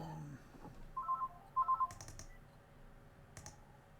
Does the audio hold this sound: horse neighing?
no